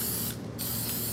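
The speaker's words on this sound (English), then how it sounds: "give it a spray just like that" An aerosol can of sealant sprays costume jewelry in a short, close hiss that breaks off briefly partway through and then resumes, with no talking.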